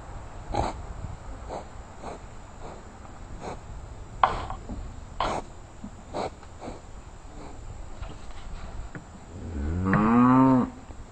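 A cow at an animal rescue farm gives one loud, drawn-out moo near the end, close by, after several seconds of scattered knocks and rustling, with no talking.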